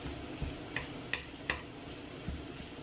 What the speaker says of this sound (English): let's add the minced meat. And we'll crumble it up.